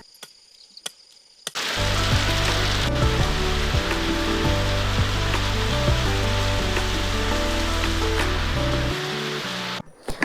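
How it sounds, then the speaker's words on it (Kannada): Heavy rain pouring down outdoors, a dense steady hiss that starts abruptly after a quiet moment and continues loudly for about eight seconds before cutting off, with insects faintly audible at the edges. "ಮನೆಗೆ ಹೋಗುವಾಗ ಜೋರು ಮಳೆ"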